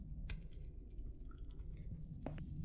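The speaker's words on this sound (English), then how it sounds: "Sounds like something's either being chewed up or dripping" Wet chewing and squelching sound effect from The Cat Lady video game, faint and soft with a few sharper crunchy bites over a low background hum, no talk.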